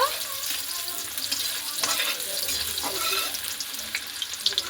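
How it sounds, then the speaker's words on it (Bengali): Carrots frying in oil for fried rice, being stirred in the pan, give a steady bright sizzle with scattered pops and scraping clicks. The sound runs continuously at moderate loudness with no voices. "গাজরটা কিন্তু খুব সুন্দর করে ভেজে নিয়েছি"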